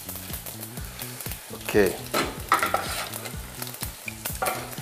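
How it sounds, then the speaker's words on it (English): Fennel seeds and cloves crackle and pop in hot oil with a steady sizzle, while a rhythmic tonal pattern plays underneath and a voice briefly speaks. "You let the oil heat up, then put the fennel seeds and the cloves and give them between a minute or two and let them start to explode."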